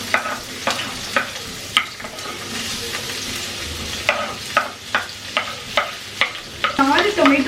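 Finely chopped onions frying in hot oil give a steady sizzle, broken by repeated scraping clicks of a spoon stirring the pan at a regular pace, with no talking.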